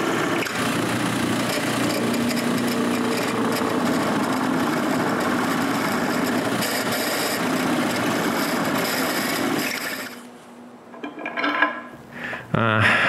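A power drill grinds steadily into wood for several seconds, drilling recess holes in a wooden bandsaw rip fence, then stops, followed by scraping and handling noises.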